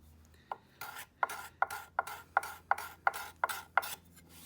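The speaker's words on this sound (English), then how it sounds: "in this direction, you can hear more of a carving noise, and it moves smoother across the surface" A carving tool scrapes across the wood of an industrial-sized wooden spoon in about ten even, rhythmic strokes, close and fairly quiet, each a short rasping pass.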